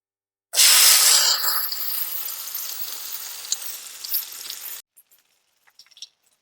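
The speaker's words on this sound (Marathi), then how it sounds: "आता पहा आपण तव्यावरती भाकरी टाकून घेणार आहे" Rice bhakri flatbread hits a hot oiled griddle with a sudden loud hiss that settles into a steady sizzle for several seconds, then cuts off sharply, leaving faint light clinks.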